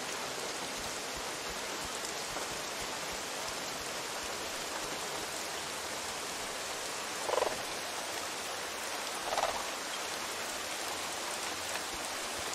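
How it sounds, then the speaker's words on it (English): Rain falls steadily in The Isle survival game as a constant hiss of dense drops. Two brief soft swells rise above it, and nobody speaks. "I wish it would stop raining"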